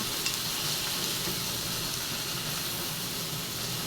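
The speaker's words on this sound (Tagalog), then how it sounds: "Igigisa ko lang po iyan." Squash with shrimp and fish sautéing in a pan, a steady close sizzling hiss of frying that holds evenly throughout with no talk.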